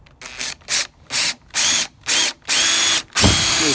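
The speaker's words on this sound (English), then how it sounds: "we'll come in with our drill with our smart bit installed in it," A power drill fitted with a smart bit drives into a deck board at ground level, six loud close bursts of whirring, the last one longest and ending with a strained grind, separated by short pauses.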